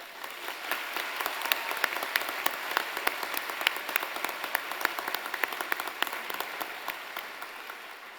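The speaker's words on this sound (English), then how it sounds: "please join me in giving a round of applause for this achievement" An audience at a school celebration ceremony gives a sustained round of applause, many hands clapping in a dense, crisp patter that stays fairly steady for several seconds in a large room.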